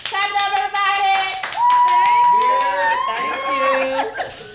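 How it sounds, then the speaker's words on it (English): Hand claps from a bakery audience ring out under sustained voices or singing, with the clapping most distinct at the start before melodic sounds take over. "Clap it up, everybody!"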